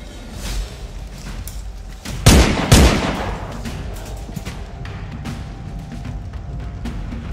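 Gunfire from a game: two loud booming shots close together, with a few scattered fainter pops over a constant background rumble.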